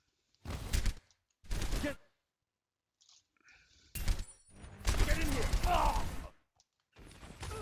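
Overwatch gunfire aimed at a tank: several loud, separate bursts of shots with short silences between them, followed by a longer, denser stretch of firing.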